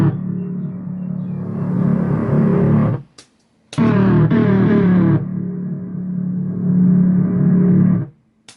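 Resampled synthesizer patch from a Waldorf MicroWave XT run through an E-MU sampler, carrying heavy convolution reverb: a loud, dense, distorted sustained tone played as two long phrases split by a brief silence, with no voices.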